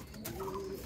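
A native pigeon on a pigeon farm coos in a short, low, steady murmur, close and clear against a faint background, with no talking.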